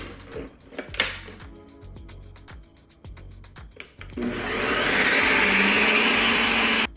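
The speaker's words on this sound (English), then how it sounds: "you're gonna put it into the Ninja Creami machine and press light ice cream" A Ninja Creami machine starts on its light ice cream setting, preceded by scattered clicks and knocks of handling, then a loud, steady whirring motor drone that holds through the final seconds.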